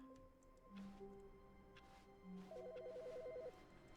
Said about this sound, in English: Oh, the phone ringing.